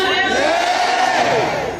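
A crowd at a Korean political rally shouts a chant together in unison, a loud, sustained mass of voices rising and falling as one drawn-out cry.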